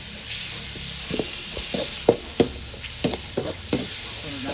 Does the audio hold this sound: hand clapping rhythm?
no